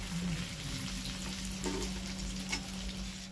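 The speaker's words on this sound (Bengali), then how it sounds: "এবার একদম কড়া করে ভেজে নিতে হবে" Chicken pieces sizzle and crackle while deep-frying in hot oil, a steady frying hiss with occasional sharper pops and stirring scrapes, close up with no talking.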